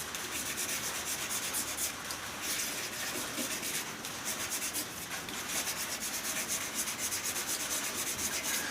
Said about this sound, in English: hurry up, get the sanding finished so we can see the colour.